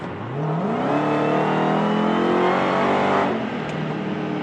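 A Hellcat car engine accelerates hard with a rising, loud roar that climbs in pitch over several seconds, then eases off near the end.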